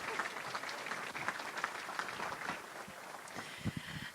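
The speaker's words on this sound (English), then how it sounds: "join me in a round of applause congratulating Big Mike and his team" Audience applause at a live business awards ceremony, a steady dense clapping from a room full of people that carries on throughout with a few louder claps near the end.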